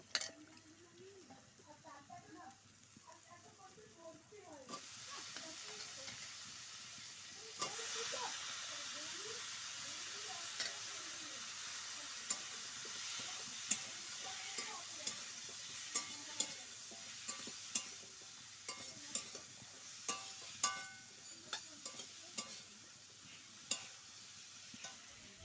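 Fish curry with drumstick pods and vegetables is stirred and fried in a pan. A soft, continuous hiss runs throughout, with scattered scraping clicks of stirring, faint and fairly close, and a brief voice near the start.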